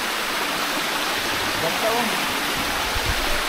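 Candice Falls, a forest waterfall and stream, pours with a steady, close, full rushing roar that fills the whole clip, while a voice briefly speaks over the water.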